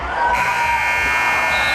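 A loud electronic buzzer sounds at a boys JV basketball game, held steadily for nearly two seconds over a noisy gym crowd with some cheering.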